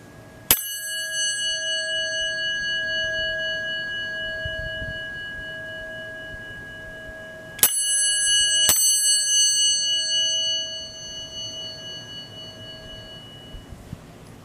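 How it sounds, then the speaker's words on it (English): A Westinghouse elevator dinner bell rings out in three clear, bright strikes: one single chime, then after a pause a quick pair, each tone hanging and decaying slowly in a quiet room. "An incredibly beautiful sounding Westinghouse elevator dinner bell."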